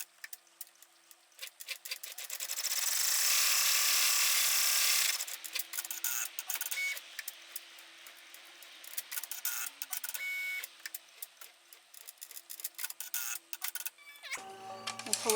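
Embroidery machine tack-stitching the back and front pieces of an in-the-hoop embroidered note holder, a fast mechanical clatter of needle strokes with a steady whirring stretch near the start and a brief final change, fairly quiet.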